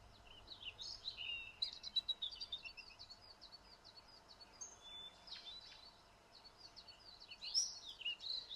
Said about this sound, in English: It's just the sound of birds, and that's all you can hear.